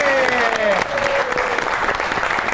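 Loud studio audience applause greets guest Mathira on a comedy talk show, a dense burst of clapping that fills the clip, with a voice speaking over the start.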